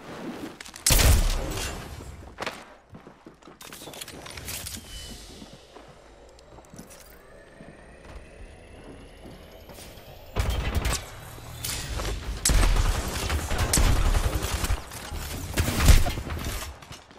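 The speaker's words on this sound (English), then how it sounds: "Bomb bots are shooting at me." Gunfire from hostile bomb bots in a solo battle-royale shooter match, coming as scattered bursts and sharp cracks spread through the scene, loudest near the start and again toward the end, amid other game effects.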